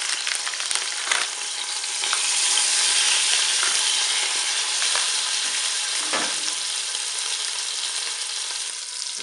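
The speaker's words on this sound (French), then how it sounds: "Pendant que vous faites dorer votre rôti" Pork roast browning in a Cookeo pot, a steady bright sizzle with occasional crackles and a few stirring scrapes, lasting several seconds.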